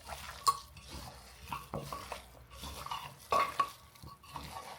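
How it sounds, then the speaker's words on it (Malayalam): A Kottayam-style kappa biryani mixture of tapioca and bone meat is stirred with salt in a pot, with a steady run of soft scrapes and sharper spoon-on-metal knocks, close and fairly quiet. "എന്നിട്ട് നമ്മൾ നന്നായിട്ടൊന്നും കൂടെ ഇളക്കാം എല്ലായിടത്തും മിക്സ് ആവണം"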